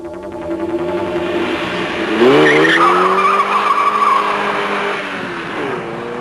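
Cars launch from a standstill in a standing-start kilometre test, engines revving loudly and rising in pitch through the gears, with a burst of tyre squeal partway through, close and continuous.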